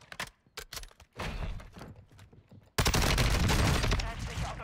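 Fennec submachine gunfire in a video game opens with scattered short bursts, then a loud, continuous fusillade of rapid shots takes over in the second half.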